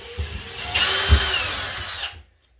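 A power drill whirs in one short burst lasting about two seconds while driving a screw during a faucet repair, close and fairly loud, then stops and leaves silence.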